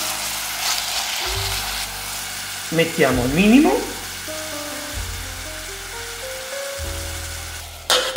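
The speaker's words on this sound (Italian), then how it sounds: "Sentite? La cottura è iniziata." Oil sizzles steadily in a pot as a chef begins cooking for baccalà alla vicentina, a soft continuous frying hiss running under nearby Italian talk, with a brief clatter and a burst of higher sizzle midway.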